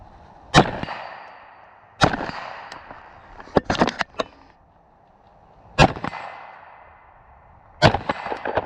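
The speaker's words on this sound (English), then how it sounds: "shooting with my rifle ACOG at that target right here" Rifle shots at a shooting-range target crack out in a spaced series, sharp and loud with ringing decay, including a quick cluster of several shots in the middle.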